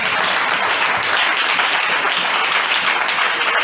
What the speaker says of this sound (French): Applaudissez le Seigneur matin de ça.